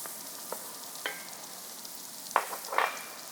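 A spoon stirs spices into goat wet fry with potatoes in a pan, giving soft scraping and faint sizzling with a few sharp clinks of utensil against the pan.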